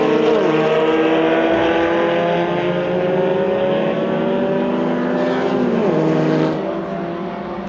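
Formula Vee race cars sweep through a track corner in a steady, loud engine drone, the pitch climbing and shifting as the pack passes close, then the sound eases slightly toward the end.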